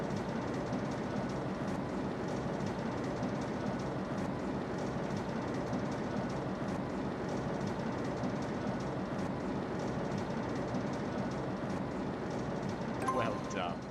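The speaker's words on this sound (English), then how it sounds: "Sounds like that freight train's getting bored and it wants to leave." A freight train engine in the Trainz Simulator video game gives off a steady, loud mechanical rumble and drone for the whole stretch, with a brief brighter clank near the end.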